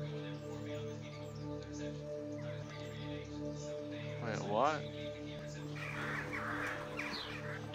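Crows caw faintly in the video game EVE amid a steady droning background, one rising call standing out near the middle, with a voice talking over the scene.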